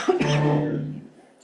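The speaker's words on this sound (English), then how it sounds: "I still have a cough from COVID." A single harsh, throaty cough lingering after COVID, close and fairly loud, trailing off quickly, during a board of aldermen meeting.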